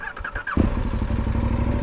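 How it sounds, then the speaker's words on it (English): A KTM 1190 Adventure motorcycle cranks with a quick pulsing starter whir, then catches and settles into a loud, close, throbbing idle with no one talking. "Let me start the engine."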